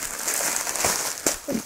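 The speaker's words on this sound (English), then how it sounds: "Sorry about the noise of the rustling plastic" Soft crinkling and rustling of plastic, continuous and close, with a few sharper crackles near the end.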